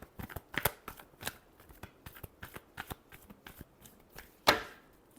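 Tarot cards being shuffled during an Aquarius love reading: a run of quick, crisp papery flicks and taps, close and fairly quiet, ending in one sharper, louder snap near the end.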